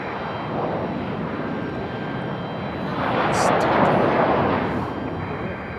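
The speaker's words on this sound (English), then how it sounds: "It's an A321" An Airbus A321 airliner at Raleigh-Durham airport, a broad engine roar that swells to a peak in the middle and then fades, with a person talking nearby.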